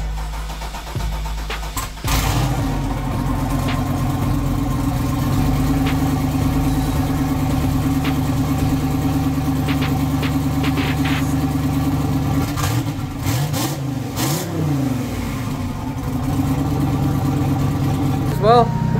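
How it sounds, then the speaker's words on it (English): A Nissan 240 engine cranks and starts, then settles into a steady, loud idle with a slight blip of revs near the end, recorded close up. "First up is Joey's 240, which that should be an interesting startup"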